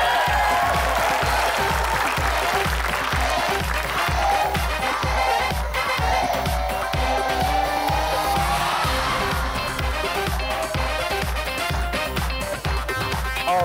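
A studio audience on the Indonesian Family 100 game show claps continuously and loudly, a dense wash of applause over a steady rhythmic beat.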